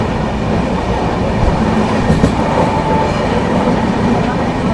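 Onboard a special passenger train departing through hilly country from Chhatrapati Sambhaji Nagar towards Gaya, a steady loud rumble of wheels and carriages with faint clicking joints and a brief squeal.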